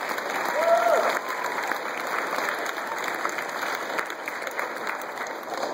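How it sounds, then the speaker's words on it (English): An audience at a school award ceremony applauds a health aide, a dense, steady round of clapping that holds at an even level throughout with a faint voice briefly over it. "So everyone give him a round of applause."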